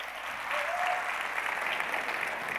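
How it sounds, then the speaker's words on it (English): A conference audience at a Detroit policy event giving keynote speaker Hill Harper a round of applause, a sustained, even wash of many hands clapping from a large room with faint murmurs. "Everybody, let's give Hill Harper another round of applause."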